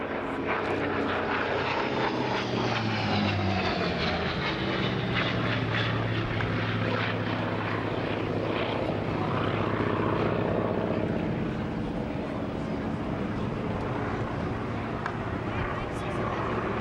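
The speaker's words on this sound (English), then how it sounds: "The radial engine has that sort of background throb to it." A steady, heavy throbbing drone of a radial aircraft engine fills the whole stretch, loud and continuous with a low pulsing rumble.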